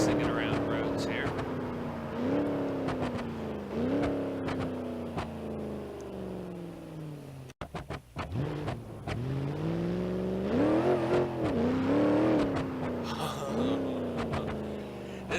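The Granny Cart V1, a RoadKill project car in BeamNG.Drive, is driven hard on roads. The engine revs climb and drop repeatedly through gear changes, loud and close, with a brief cut midway and a voice talking over parts of it.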